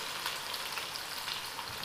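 Chopped garlic sizzles in a hot pan, a steady, bright crackling hiss that runs continuously, fairly close and quiet, with no voices over it.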